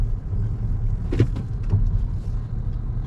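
A car pulls away on a strawberry delivery run, its low engine rumble steady and close, with a few brief knocks and rattles in the middle and no talking.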